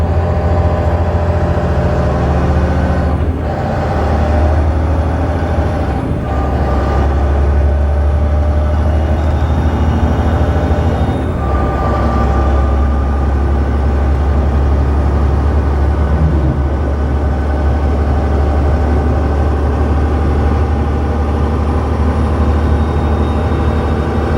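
A 2007 Volvo 880 truck with an 18-speed Eaton Fuller Ultrashift transmission pulls back on throttle, its engine a steady loud low drone from inside the cab, with a few brief shifts in pitch early on and no talking.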